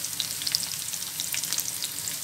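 Garlic and sliced onion sizzle steadily in a pan while being fried for pasta, a continuous close crackle with no one talking.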